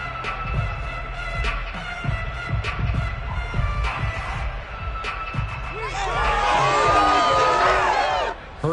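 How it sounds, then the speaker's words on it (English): A football stadium crowd at a Colts versus Eagles game erupts in loud cheering after a fourth-down stop, a roar that swells over the last few seconds following scattered crowd noise and announcer talk. "And this crowd loves it as their guys hold on the opening drive."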